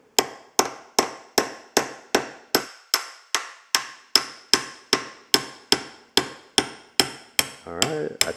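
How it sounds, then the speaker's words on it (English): A small hammer lightly taps on the distributor shaft of a Ford Model A, about twenty crisp metallic strikes in a steady, even rhythm. It is close and clear, ending in a brief shuffling noise. "I'm just lightly tapping with a small hammer, just lightly tapping"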